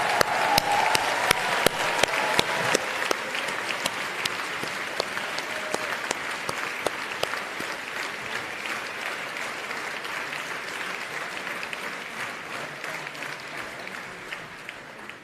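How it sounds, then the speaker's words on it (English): A large audience at the Central European University 2022 graduation ceremony applauds the graduating class, sustained dense clapping that holds steady and fades slightly toward the end. "please join me in applauding the new members of the class of Central European University"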